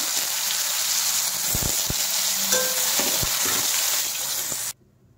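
Vadi frying in a pan gives a loud, steady sizzle close by, with a few utensil clinks and stirring knocks, before cutting off abruptly near the end.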